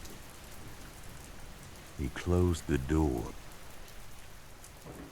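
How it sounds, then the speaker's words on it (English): A storm's rain falls outside in a steady, soft wash that continues throughout, while a calm narrator speaks over it. "The storm went on outside, but he was inside now."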